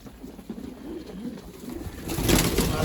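Breeding pigeons coo in a loose rhythmic series of soft, wavering low calls close by, ending in a louder burst of rustling that sounds like shuffling or wing movement.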